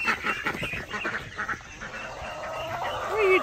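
Big ducks and geese at feeding time outside by a greenhouse honk and call together in a loud, continuous chorus of overlapping cries, close by, with no talking.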